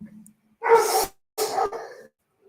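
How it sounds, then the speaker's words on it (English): A Doberman gives two loud, close barks in quick succession, each short and harsh with a pause between, in an otherwise quiet room. "My Doberman's barking."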